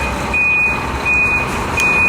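A truck's reversing alarm beeps steadily outdoors, a shrill repeating tone with regular short pauses, loud and continuous over low traffic rumble.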